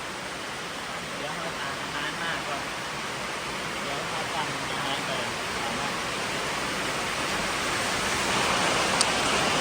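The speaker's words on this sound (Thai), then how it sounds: "ฝนตกว่ะ" Steady rain pours down in a rural Thai or Lao setting, a dense even hiss with no break, fairly loud and continuous throughout.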